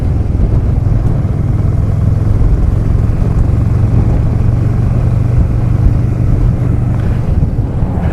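A motorcycle engine, warmed up after stale fuel was mixed through, runs with a steady, loud low drone and constant rumble, buffeted by wind noise, with no talking.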